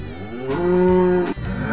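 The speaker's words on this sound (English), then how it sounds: "Yep, it's a cow." A big cow moos once in a long, loud, low bellow that holds steady for over a second, then breaks briefly and resumes, alone with no talk over it.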